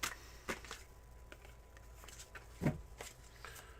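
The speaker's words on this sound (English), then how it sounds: "Here are your 7 official shuffles, Amethyst." Tarot cards being shuffled by hand, faint soft riffling and tapping with a few sharper flicks, close and quiet, without talk.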